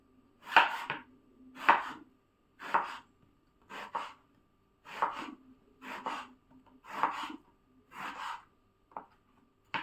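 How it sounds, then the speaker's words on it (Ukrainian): Eggplant is cut into pieces with a knife on a board, nine or ten distinct chopping strokes in a steady rhythm, close and clear with quiet gaps between. "і далі їх нарізаємо. Сильно дрібнити не треба, треба, щоб були такі гарненькі шматочки."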